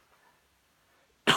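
Near silence, then a single sharp, loud cough bursts out close to the listener at the very end.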